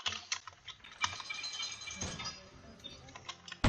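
Rapid typing clatters on a computer keyboard during a Roblox game session, a steady run of quick, fairly close key taps with a louder thump at the very end.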